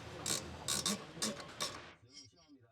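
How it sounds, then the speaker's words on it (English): Ratcheting wrench with a 7mm hex bit socket turning a brake caliper's lower guide pin on a 2011 Mazda 3, a run of four quick, close clicking bursts followed by a brief softer tail. "Using the 7mm hex bit socket with the medium ratcheting wrench, install the lower guide pin of the brake caliper"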